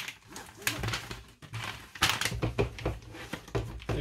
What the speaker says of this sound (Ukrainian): закриваємо пакет.